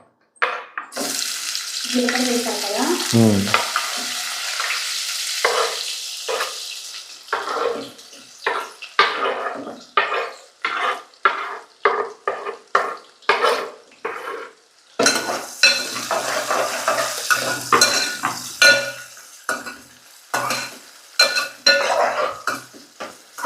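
Cumin, green chillies and onions hitting hot oil in a pan, a loud close sizzle with repeated rhythmic stirring scrapes and clatters, bursts of frying flaring up partway through.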